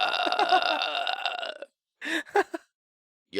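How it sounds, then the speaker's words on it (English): A long, drawn-out human burp rumbles loudly for over a second and a half, followed after a pause by a few shorter voiced belch-like bursts, close and dry. "This is like a really long burp."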